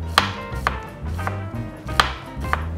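A knife slices onion thinly on a cutting board for Hokkaido soup curry, giving about six crisp, evenly spaced chops, each a sharp close knock on the board, with no talking.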